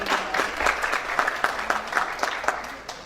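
An audience claps at the 2018 Haitian Music Awards ceremony, a lively burst of applause with distinct individual hand claps popping through the steady crowd noise, heard on its own without speech.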